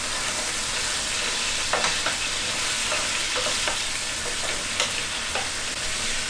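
Onions sauté in a hot pan for chicken and vegetable soup, a steady close sizzle with occasional scrapes and stirs, and no talking.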